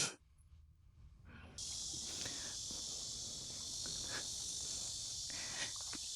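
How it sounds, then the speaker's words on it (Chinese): A loud, continuous high-pitched cicada drone starts abruptly and fills the air, with faint footsteps and rustling underneath. "蝉叫的声音特别特别响"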